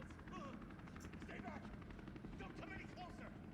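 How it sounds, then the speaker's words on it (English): A helicopter in the Resident Evil 3 Remake video game whirs in a steady, dense rotor drone throughout, with voices talking over it. "There's a helicopter waiting to take you to safety."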